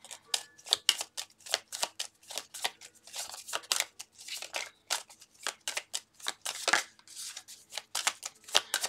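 Tarot cards being handled and laid out, with a run of crisp, quick card snaps and flicks in a steady irregular rhythm, close and fairly quiet, with no talking over them.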